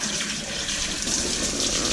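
Tap water runs steadily from a faucet over the roots of a Phalaenopsis orchid, a constant close splashing hiss with no pauses.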